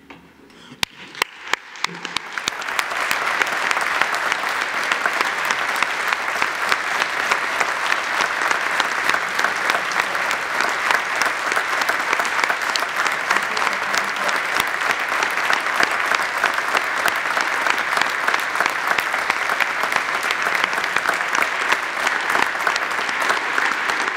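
A regional council assembly rises in a standing ovation for the Ukrainians, sustained, even applause from a large crowd continuing for over twenty seconds after a brief quieter start with a few scattered claps.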